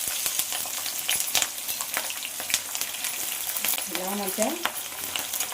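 Lentils and dried and green chillies sizzle and fry in a pan while a spoon stirs them with steady scraping clicks, and a voice speaks briefly over the cooking.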